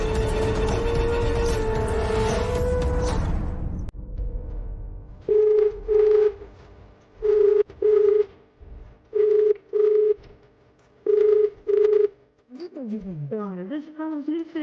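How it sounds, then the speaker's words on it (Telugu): A telephone call rings out unanswered: after a brief burst of background music, paired ringback tones repeat at regular intervals in an otherwise quiet gap, followed by a short musical flourish at the end. "ఫోన్ లిఫ్ట్ చేయట్లేదు."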